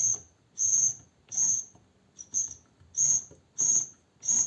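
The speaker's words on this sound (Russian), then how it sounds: "Она практически сухая. Свистит, мурчит и не работает." Dry, unlubricated Astralux M10 sewing machine giving off a series of about eight short, high whistling squeaks in a regular rhythm, close and fairly quiet, with faint mechanical rumble between them.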